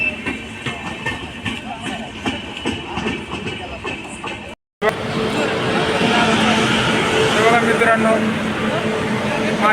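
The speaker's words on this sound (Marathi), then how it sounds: "मुंबईवरनं दुसरी गाडी आली हैदराबाद एक्सप्रेस" Hyderabad Express train pulling into a station, a rumbling roar of wheels and carriages that grows louder and denser after a brief cut, with people talking nearby throughout.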